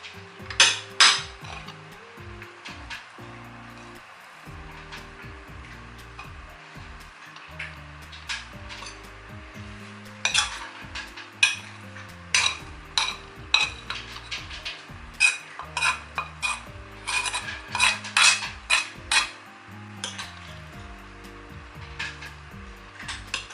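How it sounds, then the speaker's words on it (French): Plates and cutlery clatter in a home kitchen while servings are set out, with sharp ceramic and metal clinks in irregular clusters, and a low sizzle from a pan running underneath. "je vais préparer les assiettes"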